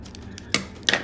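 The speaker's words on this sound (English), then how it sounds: "I'm gonna carefully cut the plastic." Heavy-duty industrial scissors snip through a plastic seal on a sealed Kaijudo card deck, two quick crisp cuts close to the listener against a faint quiet background, with no talking.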